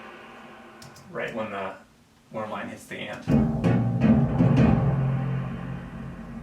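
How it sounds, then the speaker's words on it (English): A gong strikes within a composed music score and leaves a low, sustained ringing swell that hangs under someone talking nearby. "And I have another gong hit there."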